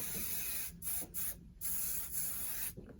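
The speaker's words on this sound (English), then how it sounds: "finish this with just a little bit of Rusk Shine Spray today" Rusk Shine Spray misted onto styled hair in a series of short aerosol bursts, several quick hisses with pauses, close and fairly soft.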